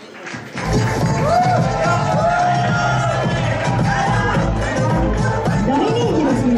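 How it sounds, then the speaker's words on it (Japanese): Studio audience at a Japanese YouTube year-end party erupts in loud, sustained cheering and whooping to welcome a guest, with overlapping voices throughout. "拍手でお迎えください。"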